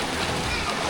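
A short, loud splash and slosh of someone getting into a natural pool of water at a hot desert campsite in Moab, filling the whole moment with bright churning water.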